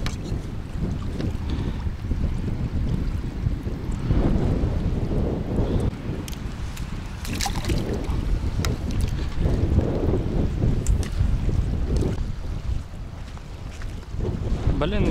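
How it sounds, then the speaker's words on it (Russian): Steady wind roars and buffets the microphone without letup while fishing, with a low rumble and faint water sounds beneath, loud and continuous throughout. "Блин, ветер не дает рыбачить, а? Дует и дует без остановки."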